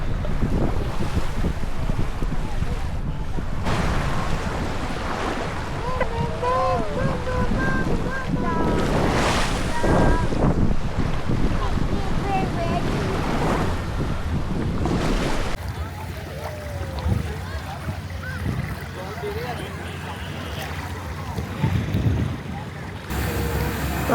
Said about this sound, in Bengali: আমরা এখন বোটে উঠে এখন আমরা নেক্সট আইল্যান্ডে যাচ্ছি